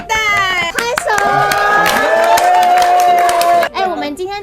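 A small group of hosts gathered for a delivered hot pot meal cheer and clap together in a short, lively burst, with bright shouting voices and scattered claps up close.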